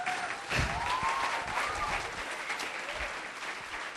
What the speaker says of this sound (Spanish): Un aplauso para nuestro hermano Hugo